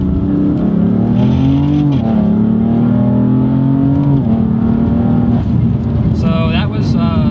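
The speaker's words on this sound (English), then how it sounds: "So I'm going to demonstrate the second gear pull here." BMW M4 with a twin-turbo straight six and 600 horsepower pulling hard in second gear, a loud, close engine note rising steadily in pitch through a couple of quick shifts.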